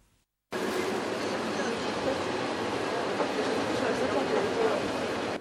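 A passenger train carrying refugees pulls into the station at Irkutsk, a sudden steady roar of rolling wheels and rumble that fills the clip after a brief moment of quiet.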